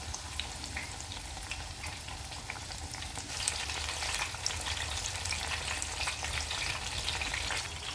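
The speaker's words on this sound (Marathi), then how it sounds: "हे पहा छान तळून झालेले आहेत। आता आपण काढून घेऊया।" Ridge gourd bhaji fritters deep-frying in hot oil give off a steady, dense sizzle and crackle, close and even throughout, with faint stirring movements and no voices.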